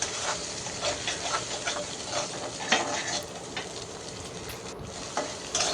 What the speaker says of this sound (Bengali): ডিমটা দেওয়ার পর একটু ভেজে নিচ্ছি